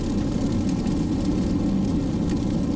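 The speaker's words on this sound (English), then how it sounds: "There's a little road noise from the tires, but there's not much." Steady low tire and road rumble inside a 2017 Ford Escape SE 2.0L cruising on a wet highway: a constant, moderately loud broadband drone with no talking.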